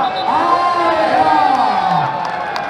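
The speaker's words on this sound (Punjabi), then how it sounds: "ਤਾੜੀਆਂ ਵੱਜਦੀਆਂ ਹੌਸਲਾ ਮਿਲਾਈ ਜਾਂਦੀਆਂ ਆ" Outdoor crowd at a kabaddi tournament match in Leicester cheering, whooping and shouting in a sustained loud roar, with voices calling out over the general din.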